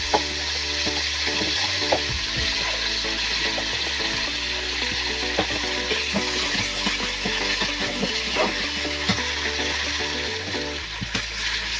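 Poppy seed paste fries in a pan over softened onions and cooked-down spices, giving a steady low sizzle under scattered scraping and clinking stirs, with a constant background hum throughout.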